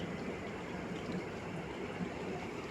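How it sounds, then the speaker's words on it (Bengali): Chicken pakoras fry in hot oil with a steady, dense sizzle and bubbling crackle that continues evenly, close and moderately loud with no voices. "এবার এই পকোড়াগুলো ভেজে তুলে নিলাম"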